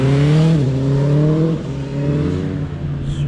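Motorcycle engines drone loudly and steadily close by, the pitch dipping and shifting as they pass.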